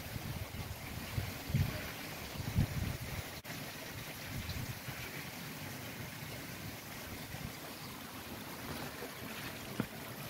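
A garden pond waterfall, newly repaired and cleared of blanket weed, runs with a constant soft wash of falling water. A few faint knocks and bumps sit on top of it.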